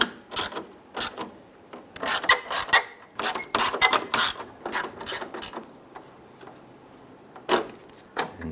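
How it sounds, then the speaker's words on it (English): Grille screws on a 1995-2001 Ford Explorer being tightened produce close, crisp bursts of ratcheting clicks in irregular runs, separated by short pauses and a quiet low hum. "we can now go ahead and snug those down."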